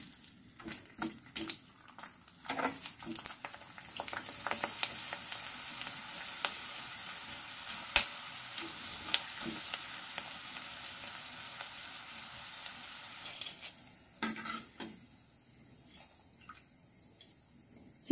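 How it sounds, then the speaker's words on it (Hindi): Raw potato chips fry in hot oil, giving a steady soft sizzle with scattered crackles and pops that thin out toward the end. No voices are heard. "अब इसमें कुछ चिप्स को डालते हैं।"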